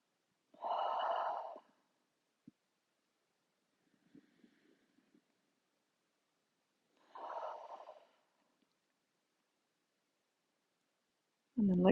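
Slow yoga breathing: a long, soft inhale through the nose, a quiet pause, then another drawn-out breath, each one close and clearly audible against near silence.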